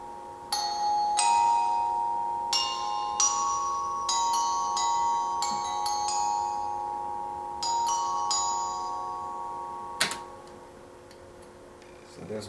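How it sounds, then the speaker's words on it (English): Solo glockenspiel played alone, bright struck metal bar notes ringing in short melodic phrases with sparkling attacks and lingering decay, a soft sustained tone beneath and a sharp click near the end. "I have a glockenspiel"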